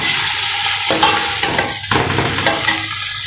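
Beef for haleem fries in a pan, a loud close sizzle broken by repeated scraping stirs of a spoon against the pan.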